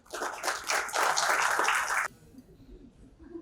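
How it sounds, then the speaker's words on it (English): Audience applause greets the opening speaker at the Architect and Interiors India Design Debate in Patna: a dense, loud burst of clapping that stops abruptly, leaving quiet room tone and faint murmuring. "Please join me to welcome him with a huge round of applause."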